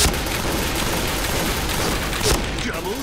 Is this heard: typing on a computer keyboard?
no